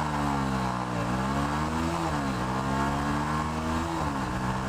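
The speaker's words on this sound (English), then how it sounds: "You're driving, and then you just double shift downwards and let go of the clutch, and it just makes the engine scream." A Yamaha YZF R125 motorcycle engine revs sharply on a double downshift as the clutch is released, rising and falling in repeated surges over a constant drone of riding and wind noise.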